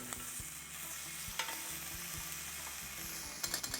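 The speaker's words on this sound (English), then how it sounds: "Those prawns have been cooking for about a minute, so we can flip them over now." Prawns sizzle in a hot pan with a quiet, steady hiss, broken by a few soft knocks and clinks of a utensil near the end.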